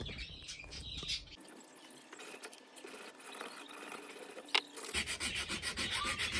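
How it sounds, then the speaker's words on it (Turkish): Hand filing on metal parts of a Canik 55 C100 Compact pistol, a steady rasping scrape at close range, with faint birdsong and children's voices drifting in from outside in Istanbul. "Şimdi ufak ufak tevsiyelerimize başlayalım arkadaşlar."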